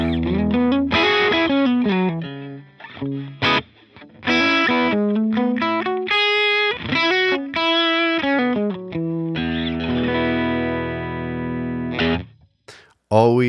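An electric guitar played through a Matchstick amp model miked with a 121 ribbon microphone, dry with no reverb: a run of clear, moderately driven single notes and chords, close and loud, with a brief pause near the end.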